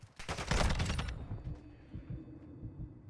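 Rapid burst of Call of Duty gunfire, a dense automatic volley in the first second that tails off into scattered quieter shots and faint game noise.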